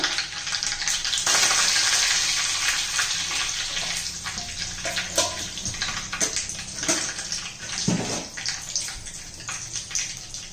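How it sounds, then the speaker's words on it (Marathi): Mustard seeds and cumin crackle and spit in hot oil, a dense hissing sizzle with scattered sharp pops and spatters running steadily throughout, fairly close and loud. "जिरं मोहरी तडतडली तर कढीपत्ता घालायचा,"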